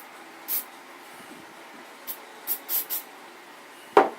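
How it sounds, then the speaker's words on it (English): Lubricating oil sprayed onto a gun slide in several short, sharp hissing bursts, a brief one followed by a quick cluster of three, then a final louder spurt with a small clack, close by in a quiet room. "spray it a little bit with oil, and just rub it on"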